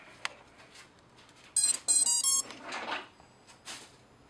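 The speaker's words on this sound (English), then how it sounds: "it didn't get the second beep because we haven't put it in beta flight yet" An FPV drone powered from a 16-volt supply, before Betaflight setup, sounds a short run of bright electronic startup beeps close by, framed by faint clicks and handling noise.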